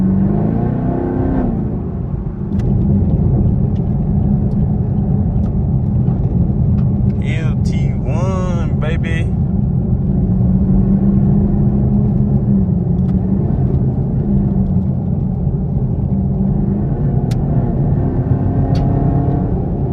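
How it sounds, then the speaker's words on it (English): An LT1 V8 car with an exhaust roars during a test drive, a loud, continuous low rumble that swells and eases with the throttle, close by, with a voice talking over it. "this car comes with an exhaust, so that's why it's roaring pretty good"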